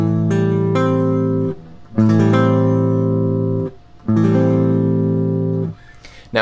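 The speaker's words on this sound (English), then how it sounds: "The next chord is the minor 7 chord, which is the natural extension of the minor triad" A guitar plays a minor seventh chord, built from root, minor third, fifth and minor seventh, strummed three times. Each chord rings out loud and sustained and fades before the next one, with no voices.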